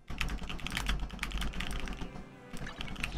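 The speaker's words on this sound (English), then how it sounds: "Oh god, I kept typing." Rapid, continuous clatter of keys on a heavy computer keyboard, played close and fairly loud with an uneven rhythm and a short lull near the end, with no voices over it.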